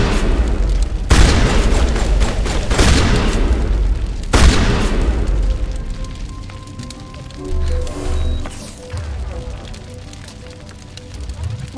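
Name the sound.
gunfire in Mass Effect video game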